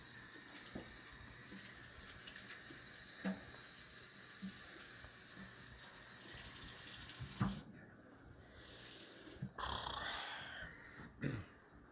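Water running from a sink tap in a kitchen during bread baking: a faint, steady hiss of flow with a few small knocks and a change in the splash near the end.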